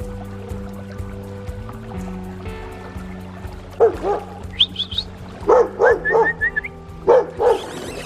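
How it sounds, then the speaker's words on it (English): An angry dog barks near a river, several sharp bursts in uneven clusters over steady background hum, moderately close. "That is one angry dog."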